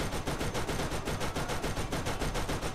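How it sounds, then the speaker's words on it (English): An SMG-style combat rifle fires in Borderlands, a fast, even stream of shots in a steady rhythm, loud and close, sustained throughout with no talking. "this SMG, combat rifle thing, whatever it is, it's amazing"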